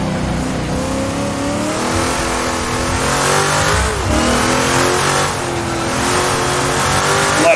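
Race car engine in the Assetto Corsa video game at Mont-Tremblant, revving hard through downshifts toward first gear, with loud rising and falling engine tones, brief blips and some tire noise, continuous and up close.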